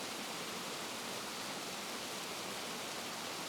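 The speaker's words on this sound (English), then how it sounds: "The air is alive with the sounds of water tumbling over large rocks of granite and" Creek water tumbling over large granite and metamorphic limestone rocks at Henry Cowell, a steady, dense rushing wash that holds constant throughout with no voices.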